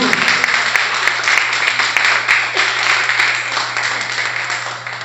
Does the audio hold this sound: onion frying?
no